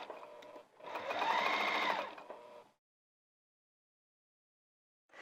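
A sewing machine runs in a steady whirring burst, stitching a curved seam on lounge pants, close and alone, then stops into silence before a brief restart at the end.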